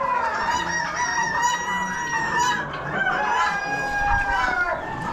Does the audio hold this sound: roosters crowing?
yes